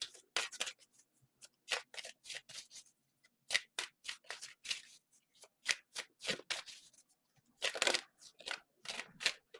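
Tarot cards shuffled by hand in bursts of crisp riffling and flicking, soft and close, with short pauses between runs and no voices.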